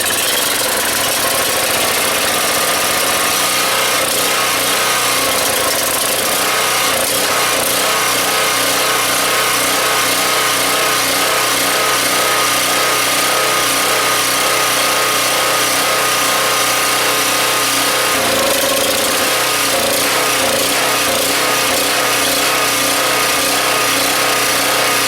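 A Husky 1850W generator with a Subaru engine and Mikuni carburetor runs loud and close, a steady buzzing drone with slight rhythmic unevenness and a brief dip partway through.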